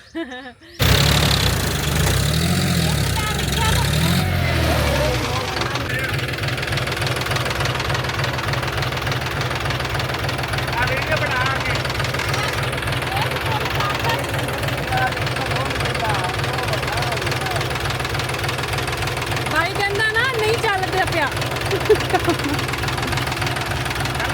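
A tractor engine runs steadily at close range with a rough, knocking idle throughout, loud and continuous, with some talk faintly under it.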